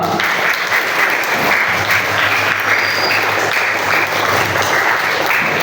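An audience at a school orientation alumni inspiration session claps continuously, a dense and even wash of applause that holds steady throughout.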